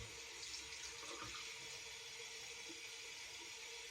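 Running water pours steadily from a tap as a body cloth is rinsed beneath it, a constant close hiss with no breaks or voices.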